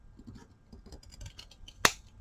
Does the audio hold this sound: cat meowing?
no